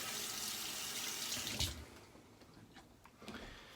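Tap water gushes steadily as lather is rinsed off an injector-blade safety razor at a sink, then cuts off abruptly, leaving a few faint drips and clinks.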